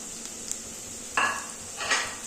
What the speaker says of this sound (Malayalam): പൊടികളെല്ലാം കരിഞ്ഞു പോകാതെ ഒന്ന് വഴറ്റിയെടുക്കുക